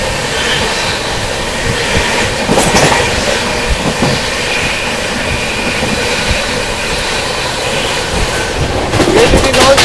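New Delhi–Prayagraj Humsafar Express hauled by an Amrit Bharat locomotive, heard from on board as a loud continuous rumble of rolling wagons with rhythmic clickety-clack over rail joints and swelling bursts of noise.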